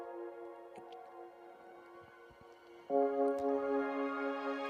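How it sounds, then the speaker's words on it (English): A whirly synth texture drenched in reverb and granular delay: sustained layered harmonic tones hum steadily, then step up to a brighter, louder chord partway through, with faint sparkly blips floating above. "I did want a little bit of kind of floaty texture, so I took a whirly sound."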